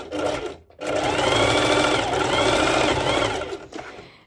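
Sewing machine stitching back and forth across several layers of swimwear fabric for ruched bikini bottoms, a fast close whirring hum with a brief stop early on and a short break near the end.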